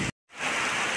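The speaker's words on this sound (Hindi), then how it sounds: "देखिए सुबह से बारिश हो रहा है, सुबह से उठी और देख रही हूँ बहुत तेज बारिश हो रही है।" Heavy rain falls steadily in a dense, even hiss that cuts out for a moment and then returns at full strength.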